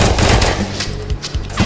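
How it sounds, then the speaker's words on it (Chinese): Rapid machine gun fire in a VR shooter game, a dense continuous burst of shots close and loud for the whole stretch, with no talking. "机枪啊，来了！"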